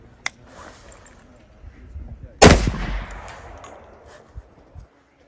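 An HK512 shotgun fitted with a muzzle device fires a single loud, close blast that dies away in a rumbling tail. A sharp click comes before it, and a few faint knocks follow.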